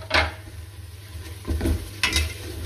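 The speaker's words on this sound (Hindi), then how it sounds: "तकरीबन 2 से 3 मिनट मज़ीद भूनेंगे इसे, ज़्यादा नहीं, थोड़ी देर।" Potatoes and carrots fry with spices in a pan for a curry, sizzling steadily under three distinct scraping stirs of a spoon against the pan, close and clear with no talking.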